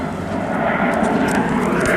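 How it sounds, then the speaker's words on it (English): An airplane passing overhead at dusk, heard as a steady, moderately distant engine drone with a broad whooshing roar that slowly builds in loudness, with no talking. "There goes an airplane."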